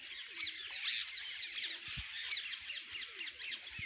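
Parrots squawking in a tree at Vanshivat in Mathura, where pigeons also roost; dense, busy high-pitched squawks and chatter run continuously and fairly close, with a few low thumps underneath.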